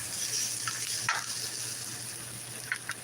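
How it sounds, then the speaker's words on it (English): Onions sizzle in a hot pan for a baked spaghetti dinner, a steady close crackle with a couple of brief stirring scrapes, and no talking. "I like to roast my onions up first."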